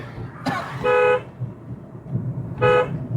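Two short car horn honks, about two seconds apart, over the low rumble of road traffic.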